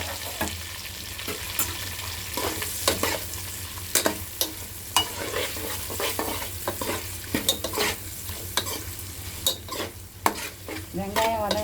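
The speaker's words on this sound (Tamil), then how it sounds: "வெங்காயம் நல்லா வதங்கிட்டாங்க" Onions sautéing in a pan sizzle steadily while a utensil stirs them, producing repeated scraping clicks and clatters at an irregular rhythm, close and fairly loud, with no talking.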